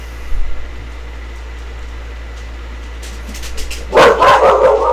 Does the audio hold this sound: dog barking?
yes